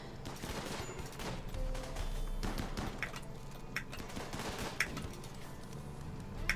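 Rimworld gunfight with rapid bursts of gunfire, sharp cracks and thuds scattered irregularly across the exchange, fairly loud and continuous.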